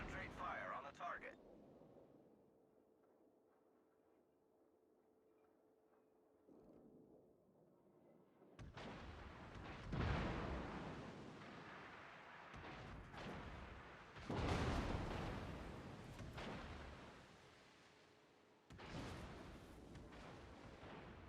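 Naval artillery firing in World of Warships, heavy booming salvos with rumbling tails arriving in clusters after a quiet stretch, with speech over part of the action.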